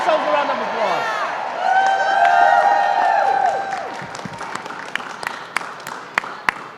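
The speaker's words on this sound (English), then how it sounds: "Give yourselves a round of applause." Young people at a Mothers Against Drunk Driving press conference in New York applaud themselves, clapping that builds into a broad wash and then thins to scattered sharp claps, with whistles and voices mixed in.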